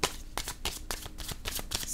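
Tarot cards are shuffled in a quick, dry burst of repeated riffling flicks and soft slaps, recurring in a steady rhythm close to the microphone with no talk over it.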